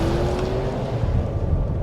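A race car roaring on a dirt track, a loud continuous engine drone close by with a steady low rumble and a brief rising tone early on; no talk.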